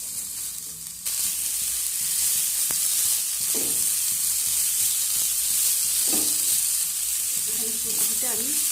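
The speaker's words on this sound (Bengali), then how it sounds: "এবার ফুলকপিটাও আমি আদা আর লঙ্কার সঙ্গে নেড়ে চেড়ে নেব।" Cauliflower stir-fried with ginger and green chili hisses with a loud, constant sizzle, while a spatula scrapes and taps the pan now and then as the pieces are tossed.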